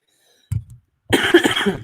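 A single short cough, then a longer rough burst of coughing or throat clearing, close and fairly loud.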